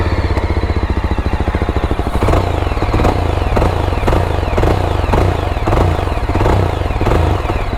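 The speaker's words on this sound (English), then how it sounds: "So let's hear the exhaust sound." A Yezdi Adventure motorcycle idles with a steady, loud, rhythmic thumping and clattering exhaust note that holds even throughout, close to the bike, with no talking.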